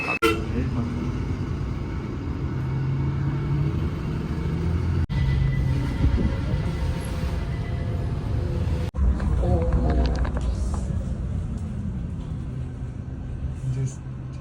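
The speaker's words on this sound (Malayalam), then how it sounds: "ഈ കോഴിക്കോട് സ്റ്റാൻഡിനുള്ളിൽ നിന്ന് വണ്ടി അങ്ങോട്ടും ഇങ്ങോട്ടും തിരിക്കുന്നതിൻ്റെ ഒരു ചടങ്ങാണ് കേട്ടോ." A KSRTC Volvo 9600 sleeper bus turns back and forth inside the Kozhikode bus stand, its engine rumbling steadily and loudly throughout with a few horn toots, while someone talks over it.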